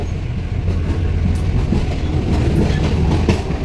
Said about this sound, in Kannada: ನೋಡಿ ಗೈಸ್, ಇದು ಭಯಂಕರ ಸ್ಪೀಡ್ ಇದೆ ಟ್ರೈನ್.